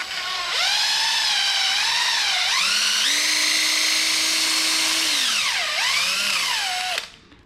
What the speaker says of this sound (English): You want to drill that out